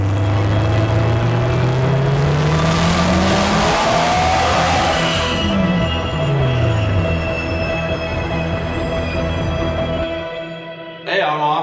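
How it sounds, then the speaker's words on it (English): A 2017 Subaru STI tuned to 836 wheel horsepower on E85 at 45 psi revs hard on a dyno, its loud engine note climbing steadily in pitch, then easing off and cutting to quiet near the end. "I got to see the car absolutely rip on the dyno."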